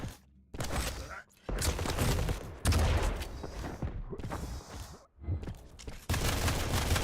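Plasma gun firing in Quake Champions during a duel match, rapid bursts of crackling shots in chunks separated by brief gaps, loud and close amid other game effects.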